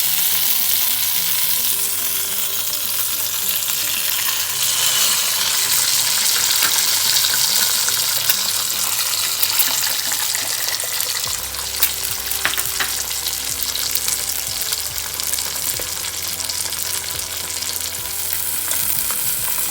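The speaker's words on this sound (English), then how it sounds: "In the same frying pan, my father is adding the 2 eggs." Steady, loud sizzling of two eggs frying in a hot pan, with occasional crackles and light clinks, continuing without voices throughout.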